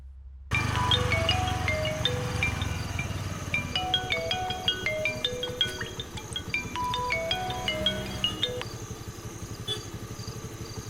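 A phone ringtone plays a repeating chiming melody in a Tamil film scene while a call is being placed. The tune stands out clearly and evenly over a low background hum.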